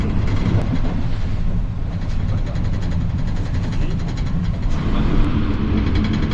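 Tezgam passenger train rolling through Ghangreela railway station, a steady loud broadband rumble of wheels and carriages with faint rhythmic clatter throughout, heard from on board.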